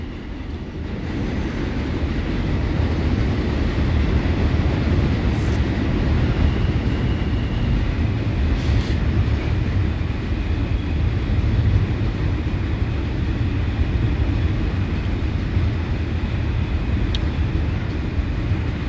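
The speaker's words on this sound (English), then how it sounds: "let the train pass." A train rumbles past close by for a long stretch, a loud, steady roar of wheels and carriages with faint squeals above it.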